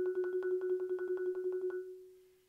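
Two-mallet roll on an upper-manual keyboard percussion bar, struck just off the resonator string; a fast, even tremolo of bright mallet strokes on a single sustained pitch, close and clear, that stops and rings out alone.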